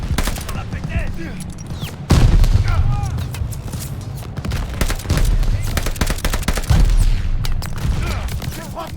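Bursts of gunfire and heavy booms in the World War II shooter Call of Duty Vanguard, rapid machine-gun fusillades and loud impacts that recur every few seconds, with a voice speaking over the battle.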